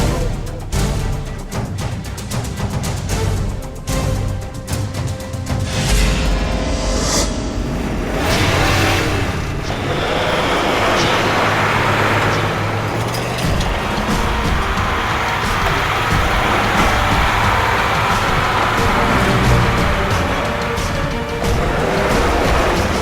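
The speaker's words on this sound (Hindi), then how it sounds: "ये गाड़ी तो मेरी तरफ ही आ रही है।" A vehicle engine roars and revs louder as it draws near, rising into a sustained, loud rush with a crash-like burst early on, heard alone without talk.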